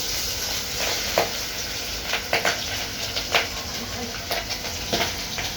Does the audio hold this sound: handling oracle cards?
no